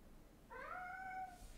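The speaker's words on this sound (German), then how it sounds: "Ah, mein Kater." A tomcat gives a single short, quiet meow, heard alone against faint background noise.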